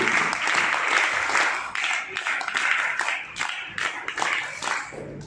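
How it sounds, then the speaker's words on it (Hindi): An audience at an Arya Veer Dal camp at an Arya Samaj temple in Delhi claps together in a dense, steady round of applause that swells and fades slightly, with a voice faintly underneath. "ताली।"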